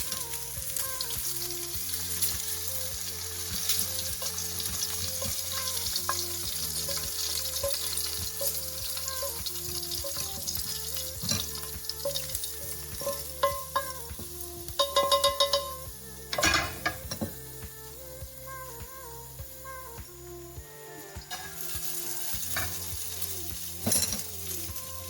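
Guanciale frying crisp in oil in a pan, a steady dense sizzle running throughout with occasional clinks of a utensil and a brief louder crackle burst midway, no voices.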